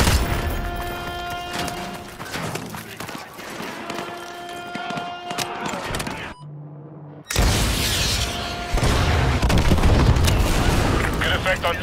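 In Call of Duty: Modern Warfare 2 Campaign Remastered, AGM missiles strike and destroy a BTR armored vehicle: loud booming blasts and rumbling gunfire, a sudden drop to near quiet, then a heavy renewed explosive roar with sustained debris rumble.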